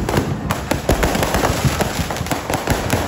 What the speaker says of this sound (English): Every minute, more than 10 fireworks are launching.